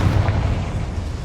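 Confringo fire spell blast in Hogwarts Legacy, a deep booming explosion that rumbles loud and steady throughout, with heavy low-end thunder and no voices.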